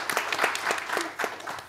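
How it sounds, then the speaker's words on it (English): Sparse, brief clapping from a small audience at a climate financing panel discussion on South Africa's energy transition, a few scattered hand claps close by. "Please, a round of applause for him."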